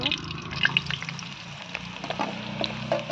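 Vegetables frying in ghee with cashews and raisins, a continuous close sizzle with scattered crackles and light stirring, the voices of people nearby faintly mixed in.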